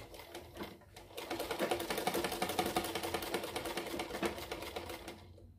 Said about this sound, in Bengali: এই একটা একটা সাইড আমি জয়েন করে সেলাই করে নেব।